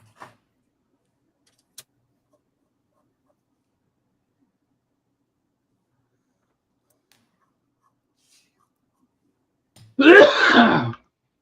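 A single loud, sudden sneeze bursts out near the end after long near-silence broken only by a couple of faint ticks, sounding close and abrupt.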